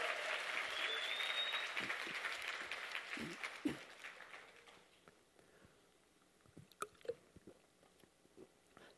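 An audience at a motivational lecture breaks into loud applause, which fades gradually over several seconds and leaves a few scattered claps and room sounds.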